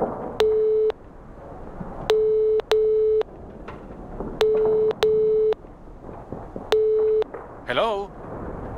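Telephone line tones from a reception desk phone in Nibiru: Age of Secrets, set in Paris: a series of steady beeps in pairs with short gaps, followed by a brief voice at the end.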